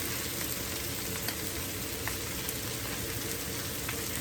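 Onions and carrots fry alongside liver and potatoes in a pan, making a continuous, even sizzling hiss with faint occasional crackles. It is steady and close throughout, with no speech.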